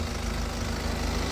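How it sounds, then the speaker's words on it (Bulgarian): A car engine idles steadily with a low, even purr, a continuous close hum with no speech over it. "Забравих да ви покажа моторчето как работи. Чувате го, моторчето мърка."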